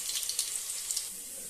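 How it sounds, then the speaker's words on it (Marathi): Onion browning in a pan for spicy village-style gavran chicken, a steady soft hiss of frying with faint crackle, continuous and low in level with no voices. "कांदा चांगला भाजून घ्यायचा आहे, सोनेरी रंग येईपर्यंत"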